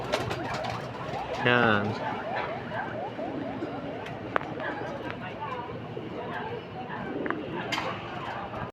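Racing pigeons coo repeatedly in soft rhythmic calls amid general bird chatter, with someone speaking briefly in Filipino and some background movement.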